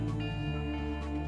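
The player-death sound from the video game Castle Crashers plays as a short, sustained electronic tone cluster that drops lower partway through, steady and fairly loud, with no talking over it.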